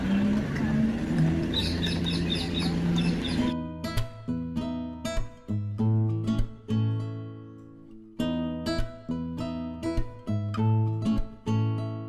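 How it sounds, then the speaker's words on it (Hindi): Small birds chirp at Tulsi Ghat on the Ganges in Varanasi, with quick twittering calls early on, then a run of sharp, repeated tones that may be bells or horns. "और चिड़िया लोग को खाना वाना खिलाते हैं।"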